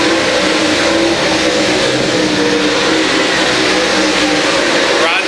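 Dirt track race cars roar around the oval during green flag racing, a loud, dense engine din with revving swells throughout, while an announcer's voice runs over the noise.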